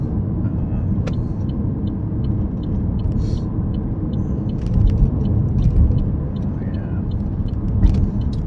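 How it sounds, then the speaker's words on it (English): Night highway traffic on the drive home from JFK airport, a continuous low rumble of engine and road noise from inside a moving car, with brief clicks and faint passing swells. "It's getting a little bit scary out here now that there's so much traffic at night"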